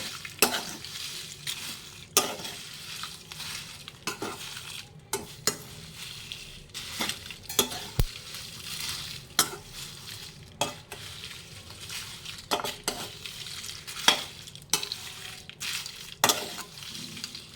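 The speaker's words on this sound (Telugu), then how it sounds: "ఇప్పుడు ఇందులో ముందుగా మనం ఉంచుకున్న ఎండుమిర్చి ధనియాలు జీలకర్ర ఇందులో వేసేసేయాలి" Dried chilies, coriander seeds and cumin are dry-roasted with dried shrimp shells in a pan, giving repeated scraping stir strokes and light clinks over a faint sizzle, close and steady.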